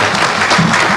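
A crowd claps loudly and continuously for the chairman at the groundbreaking of the Menengai Geothermal project in Nakuru, Kenya, forming a close, dense burst of applause.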